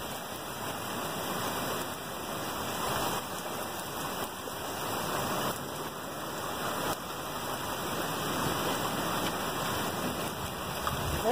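Heavy hurricane rain pours down in a dense, continuous hiss of drops striking surfaces, steady and close throughout with no voices.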